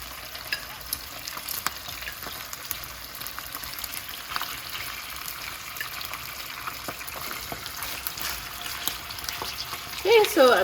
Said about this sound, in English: I'm sure you can hear the sizzling sound.